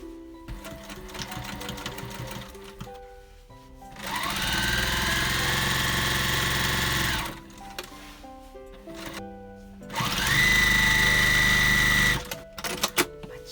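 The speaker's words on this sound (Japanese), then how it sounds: "あとここちょっと端ミシンかけとくと仕上がり綺麗かもね。" A sewing machine edge-stitches kimono fabric in two fast bursts of several seconds each, loud and close, separated by quieter handling clicks and rustles.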